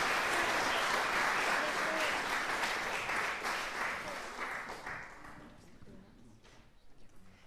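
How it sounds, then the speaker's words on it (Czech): Audience applause for the young singers after a bagpipe folk band performance at a Czech radio event, a loud dense ovation that slowly thins and fades to scattered claps as a voice begins speaking. "Tak já vás poprosím o ještě jeden potlesk pro všechny naše zpěváčky, Vendulu Zdráhalovou, Lucku Koudelkovou"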